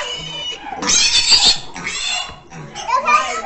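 A pig squeals loudly in repeated cries on a small rural farm, close by, while people talk around it.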